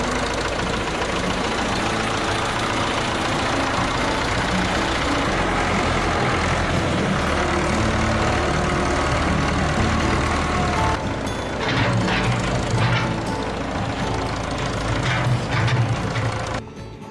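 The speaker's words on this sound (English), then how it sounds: "Its heavy steel bucket continuously lifts massive loads of dirt onto trucks, while the loud engine echoes across the entire work site." A heavy excavator engine runs steadily at a riverbed mining site, a loud, continuous diesel roar with a deep low drone and a broad mechanical clatter that shifts slightly near the end.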